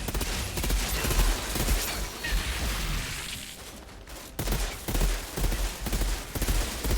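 Dense bursts of automatic gunfire and fusillade from the Outriders video game, loud and nearly continuous with a brief lull midway before firing resumes, no talk.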